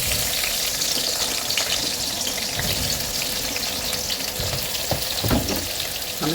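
Pieces of bitter gourd (karela) fry in hot oil over a high flame, giving off a steady, close, dense sizzle with a few faint clinks throughout.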